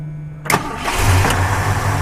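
A 1976 Ford F250 Supercab with its factory 390 four-barrel V8 and an Edelbrock carburetor cranks briefly, catches, and settles into a deep, even idle, close and loud.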